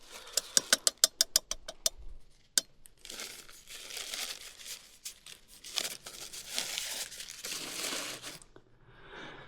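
Paper napkins are handled outdoors during plein air oil painting, first with a rapid run of sharp crinkling snaps, then a longer stretch of softer rustling and crumpling, close and fairly quiet with a faint engine hum behind.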